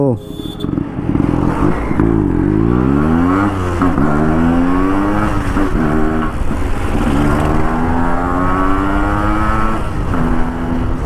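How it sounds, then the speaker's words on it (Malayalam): A Yamaha RX135 two-stroke motorcycle's exhaust climbs loudly through repeated rising revs as it accelerates hard, the engine note sweeping upward again and again, close and continuous for the whole stretch. "അറുപതിൻ്റെ മുകളിലാണ് ഈ വണ്ടിയുടെ എക്സോസ്റ്റിൻ്റെ ആ ഒരു ഫീലിംഗ് നമുക്ക് കിട്ടുന്നത്"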